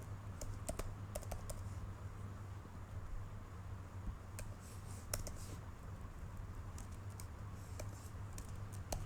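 Python code being typed on a computer keyboard, irregular clusters of light key clicks with short pauses, close and clear over a low steady background hum, no voices.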